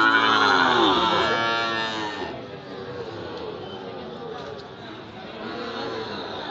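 Sahiwal breed bulls at a busy rural cattle market, with loud harmonic lowing at the start over a steady crowd babble, followed by ongoing hubbub of voices.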